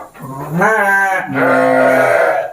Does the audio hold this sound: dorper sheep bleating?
yes